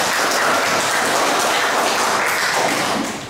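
Applause fills a classroom or hall as thanks at a Catholic religious education session in Merauke, a dense steady wash of many hands clapping without talk, fading slightly at the end.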